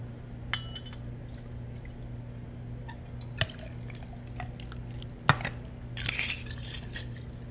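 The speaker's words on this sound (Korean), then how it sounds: "차갑게 만든 잔에 마찬가지로 보드카를 먼저 넣겠습니다" Vodka for a Moscow Mule pours into a chilled glass with small trickles and drips, a few sharp glassy clinks, and a brief burst of splashing at the end, all close and fairly quiet.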